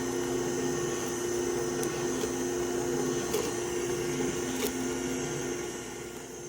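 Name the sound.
Nama J2 juicer juicing spinach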